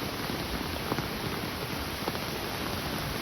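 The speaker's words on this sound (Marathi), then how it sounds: "खूप पाऊस पडतोय" Heavy rain falling near a swollen river in Khed, a steady broadband hiss of rain with faint scattered drop impacts, moderately quiet and continuous, with no one talking.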